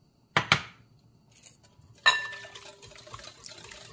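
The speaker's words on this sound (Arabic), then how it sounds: "نفس العملية غندير نص كاس، نخوي هنا باش نشلل هاد الزيت" Two sharp clinks of glassware are followed by a splashy pour of liquid into a container to rinse out leftover oil during quince tart preparation, close and moderately loud.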